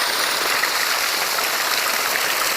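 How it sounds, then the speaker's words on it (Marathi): Water gushes steadily from the outlet of a 3 hp Pearl solar water pump, a dense, continuous splashing hiss that stays loud and close for the whole stretch with no voices over it. "एक नंबर पाणी मारतो पर्ल कंपनीचा सोलार पंप"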